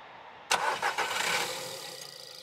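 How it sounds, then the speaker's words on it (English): A fire-damaged Skoda car, jump-started from a van, cranks with a few quick starter bursts, then catches and settles into a steady idle, close up. "There's nothing left to do but to try and start it."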